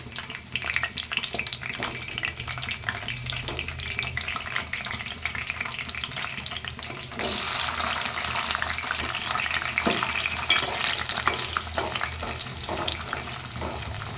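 Moringa drumstick pods fry in hot oil in a pan for chicken curry, a continuous loud sizzle that intensifies partway through, with occasional stirring scrapes.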